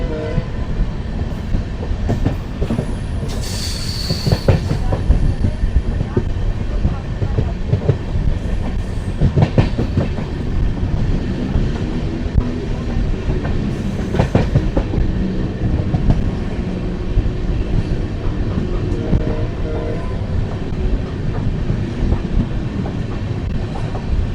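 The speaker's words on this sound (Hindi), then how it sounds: "अच्छी रफ्तार के साथ आगे बढ़ती हुई हमारी ट्रेन" The Amritsar–Bikaner Superfast Express running at good speed on the rails, with a loud continuous rumble and clattering wheels, a brief horn sounding near the start, and no talk.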